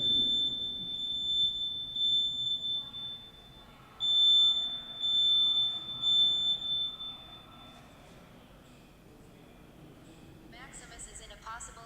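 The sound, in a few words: smoke detector alarm sounding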